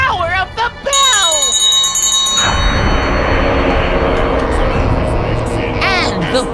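A bell rung during a dark ritual in the Sam and Max adventure game, its bright ringing tone sustained among a loud, dense game soundtrack with voices speaking over it.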